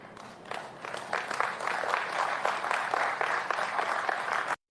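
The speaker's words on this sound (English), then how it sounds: "A standing ovation." A large audience gives a standing ovation, dense sustained applause building quickly and holding at a loud, even level before cutting off abruptly at the end.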